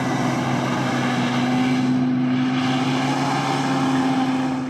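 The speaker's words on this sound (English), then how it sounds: "I've always wanted a hovercraft. As long as it doesn't get too close, because it's blowing sand everywhere" Hovercraft passing nearby on a sandy coastal shore, a steady loud fan-and-engine roar with a strong low hum, swelling slightly as it goes by, no voices.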